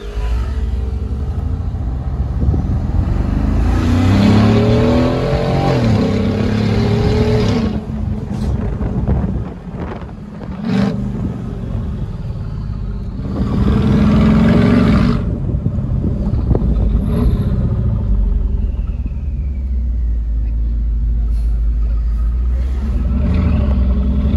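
A Mercedes G63 with an Akrapovic exhaust: its deep, throaty V8 roars and rumbles loudly throughout, with surging bursts of revving and brief drops between pulls.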